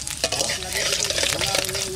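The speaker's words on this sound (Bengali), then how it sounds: "ফোড়ন দেবো, সরষের তেল দেবো, পাঁচ ফোড়ন।" Panch phoron spices tempering in hot mustard oil for a katla fish and pumpkin dish, a steady close sizzle with scraping stirs and faint background sounds throughout.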